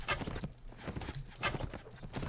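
Horses galloping at night across hilly terrain in Mount&Blade, a rapid rhythmic clip-clop of hooves in loud repeated bursts, close by with no voices.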